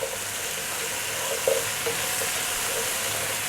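Curry powder, salt, black pepper and ginger fry and get stirred often in a pot on high heat for pumpkin soup, a steady close sizzle with a few soft scraping stirs, no voices.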